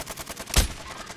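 A single sharp gunshot cracks out in the middle of a video game's steady background noise, loud and close, with no talk.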